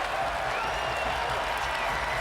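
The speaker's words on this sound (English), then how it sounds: "Crowd encouraging this Timberwolves team." Basketball arena crowd cheering and applauding for the Minnesota Timberwolves during a game against the Los Angeles Clippers, a steady dense roar of distant voices and clapping.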